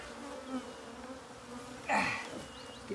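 Honey bees in an open beeyard hive buzz steadily as the stacked boxes are rotated, with a low continuous drone and a brief louder burst of agitated buzzing near the end.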